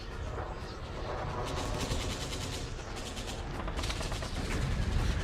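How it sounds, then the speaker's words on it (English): Continuous battle din of explosions and gunfire from the video game Final Fantasy X, dense crackling bursts and low rumbling booms layered steadily throughout, fairly loud with no pauses. "you're not going to be hearing explosions and gunfire?"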